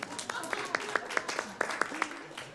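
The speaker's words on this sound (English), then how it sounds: "I think we have to clap for Tony too" Scattered clapping from a small group at a city council retreat meeting, with individual claps distinct amid room murmur and voices talking.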